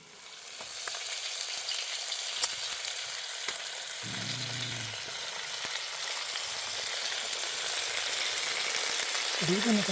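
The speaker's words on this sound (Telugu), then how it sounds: "ఎస్, బాగా అయితే ఉడుకుతుంది చేప." Fresh karavadi fish fries in a pan over charcoal in a village kitchen, with a continuous close crackling sizzle that grows slightly louder and denser over the ten seconds.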